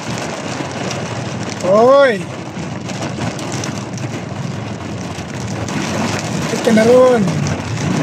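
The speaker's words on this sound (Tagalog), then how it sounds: "Ulan dito sa Butuan" Steady rain hisses throughout in Butuan City, Philippines, with a voice calling out briefly twice over the downpour.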